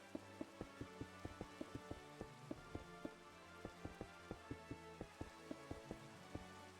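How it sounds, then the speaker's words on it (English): Rain falls in the Minecraft video game as a steady patter of regular, evenly spaced drip-like taps over a soft continuous wash, quiet and with no talking. "Oh, there be rain."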